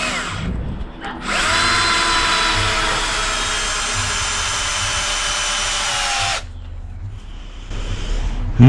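A power drill drives screws into a wooden goose house, a steady loud whir of about five seconds that slows slightly at the end, framed by brief handling noise before and after.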